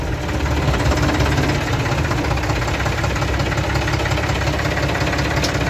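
A TAFE tractor engine idles steadily nearby, a continuous low knocking diesel rumble with even vibration and no voices.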